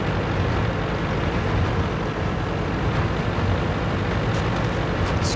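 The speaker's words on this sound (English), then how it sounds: "It's a fast-moving little tank." Light tank driving fast in World of Tanks, a steady loud engine and track rumble filling the scene without pause, broadband and continuous with no talk over it.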